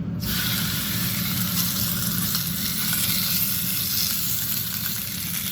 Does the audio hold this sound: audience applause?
no